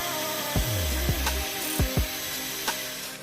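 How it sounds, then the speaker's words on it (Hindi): A cordless drill spins the shaft of a printer motor, giving a buzzing whir that rises in pitch and several short revving bursts, close and fairly loud. "अभी हम अपनी कॉटलेट ड्रिल मशीन के द्वारा यहाँ पर इसकी शाफ्ट को रोटेट करा के देखेंगे"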